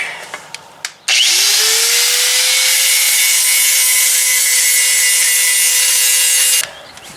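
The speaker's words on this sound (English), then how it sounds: "First thing we need to do here, grinder." An angle grinder cuts into a car wheel arch on a Nissan S15, starting abruptly after a few faint knocks and holding a loud, steady high whine for about five seconds before cutting off.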